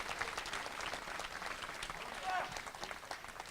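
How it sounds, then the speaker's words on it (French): A television studio audience at a village broadcast in Commenailles applauds a local guest singer, a steady wash of clapping held at moderate volume throughout, with a voice speaking over the applause. "On l'applaudit bien fort s'il vous plaît"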